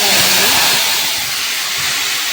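Loud, broad sizzling hiss as salted radish greens go into hot oil tempered with mustard seeds, dried red chilli and turmeric, fading slightly but continuing steadily.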